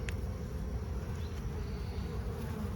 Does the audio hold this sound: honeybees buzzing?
yes